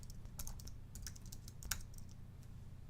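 Quiet keystrokes on a computer keyboard as database details are typed into a Drupal 8 web-host installation form, irregular clusters of soft clicks over a low steady hum.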